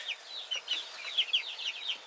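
Chickens cluck in a farm pen, including a large barred rock rooster, with a steady run of fairly close, bright clucks and squawks in overlapping bursts and no talking.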